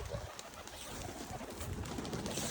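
Pigeons coo softly and continuously against a dense, noisy outdoor background, with no voices.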